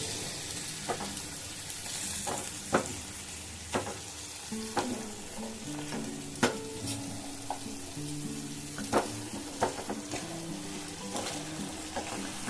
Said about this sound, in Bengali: এবারে খুব ভালো করে মশলা দিয়ে এগুলোকে কষিয়ে নেবে